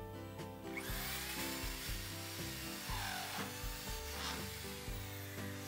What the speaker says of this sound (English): Now I mark the spot where I will drill a hole to drop the feeder wires down through the plywood